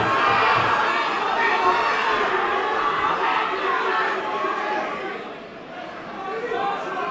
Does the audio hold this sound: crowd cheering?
yes